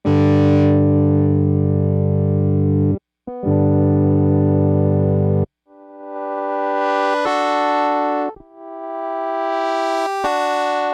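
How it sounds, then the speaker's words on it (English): A deep, buzzy synthesized bass tone holds, pauses, then returns brighter as the filter opens, the sustained notes growing more harmonically rich and sharp. "I sampled this sound to be a bass sound, but if you open up the filter"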